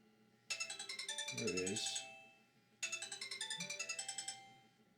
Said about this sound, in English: It should start ringing any minute.